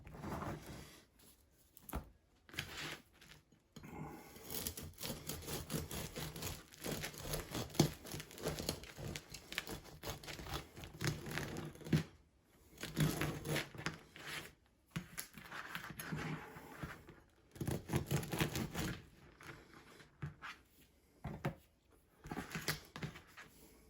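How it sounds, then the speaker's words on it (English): A knife saws into a crusty no-knead bread loaf, giving scratchy, crackling crust crunches in irregular bursts with quiet pauses, close and fairly soft. "let's go ahead and cut into the other loaf"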